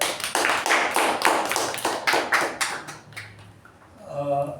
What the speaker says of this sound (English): Let's give a round of applause to our president for a great job